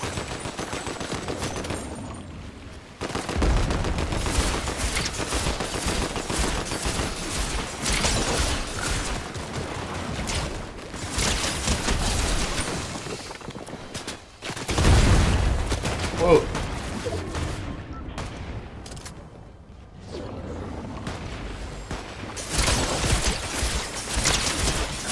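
Gunfire in a Fortnite match: repeated bursts of rapid shots and single cracks come in loud clusters separated by quieter gaps, with people talking over the action.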